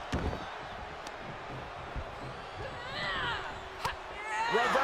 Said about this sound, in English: drop kick to the spine.